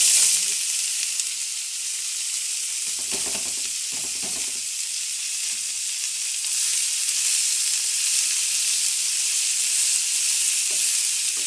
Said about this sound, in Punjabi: ਜਿਹੜੇ ਪਿਆਜ਼ ਨੇ ਇਹਨਾਂ ਨੂੰ ਚੰਗੀ ਤਰੀਕੇ ਦੇ ਨਾਲ ਭੁੰਨ ਲਾਂਗੇ